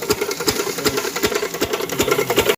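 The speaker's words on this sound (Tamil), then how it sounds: "இன்ஜின் சூடு ஸ்பீடு குறைஞ்ச வச்சனால தண்ணி கம்மியாக தான் வருது" An oil engine water pump at a well runs at slow speed, a loud close rhythmic chugging with evenly spaced thumps, then cuts off abruptly at the end.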